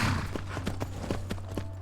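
Horse hooves clip-clop in an even, quick rhythm as a rider travels on horseback in the Skyrim video game, a series of crisp hoof strikes heard clearly over a low steady hum.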